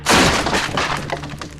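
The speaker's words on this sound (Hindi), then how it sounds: "वो टुंग टुंग सहुरे की स्टिक वहां ही टूट गई।" A cartoon magical stick snaps apart in a loud, sharp crack with glassy, shattering breakage that rings out and scatters into smaller debris over about a second and a half, with no talking.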